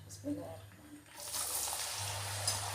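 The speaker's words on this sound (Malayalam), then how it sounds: "നമുക്കിത് പൊരിച്ചെടുക്കാം അപ്പം ഞാനിതിന് കുറച്ച് ഓയിൽ ഇട്ട് കൊടുക്കുന്നു" A snack frying in hot oil in a pan, a steady hiss and sizzle that swells after a quieter start and continues close and even to the end.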